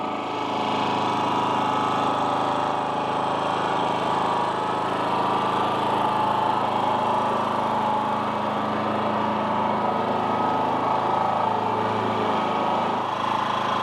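A GenMax 10500XiT generator idles at low speed in eco mode, giving a steady, loud, close engine drone with an even rumble that holds unchanged throughout.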